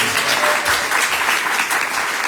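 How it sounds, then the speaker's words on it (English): A crowd claps steadily at a bhakti festival in Hilo, Hawaii, honoring the founders of a temple, a brief, even burst of applause with no clear voices over it. "clap for them because they established the temple"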